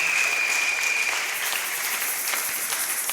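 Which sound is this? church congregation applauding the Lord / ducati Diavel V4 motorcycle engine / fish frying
church congregation applauding the Lord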